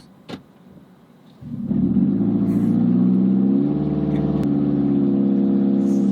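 A car with its catalytic converter stolen starts up after a faint thump, then roars into a loud, raspy, rumbling idle that swells briefly and holds steady up close.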